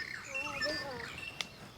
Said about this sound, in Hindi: बहुत सारी छोटी छोटी बर्ड्स हैं